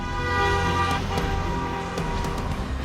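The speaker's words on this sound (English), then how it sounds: "they're building up an impatient queue of traffic behind them" Car horns toot from a queue of impatient road traffic, several short honks rising over a steady rumble of idling engines and roadway noise.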